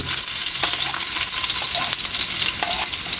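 Ginger and garlic sauté in a hot pan for a mussel tinola soup, a steady crackling sizzle with occasional stirring scrapes, close and continuous, with no talking.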